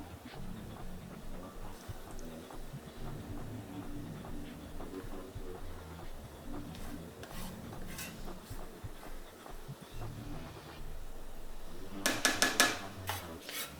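Cooked rice being scooped with a spoon into meal prep containers in a home kitchen, quiet soft scraping and stirring, then a few sharp clinks of the spoon against the containers near the end.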